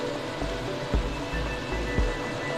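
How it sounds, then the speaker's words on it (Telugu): Skinless chicken, about a kilogram, dropped into hot tempering in a pan, giving a loud steady sizzle with a couple of sharp splashes as the pieces land. "ఈ మగ్గిపోయిన తాలింపులో చికెన్ పెట్టాలండి."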